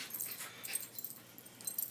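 Dogs at play, giving soft whimpers, yips and playful huffing noises that come in quick, irregular bursts close to the listener, with no talking over them.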